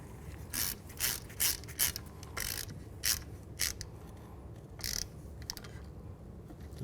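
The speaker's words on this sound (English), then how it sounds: "Take the screw, get the screw started. And tighten it up." A screw being hand-tightened on a rear wheel hub bearing of a 2013-2015 Chevy Cruze, heard as a run of short ratchet clicks in bursts with pauses between, close and fairly faint.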